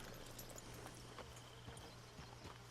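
Hooves of a Tennessee Walker horse in Red Dead Redemption 2 clop in a steady walking rhythm, moderately close, over a constant low hum and game ambience, with no talking.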